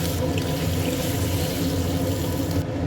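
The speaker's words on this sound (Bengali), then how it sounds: "এবার এই মিক্সির বাটি দিয়ে কিন্তু আমি দু বাটি জল দিয়ে দিচ্ছি" Two bowlfuls of water pour steadily from a mixer bowl into a simmering chital fish curry with dal bori and potatoes, a continuous splashing gush with no voices.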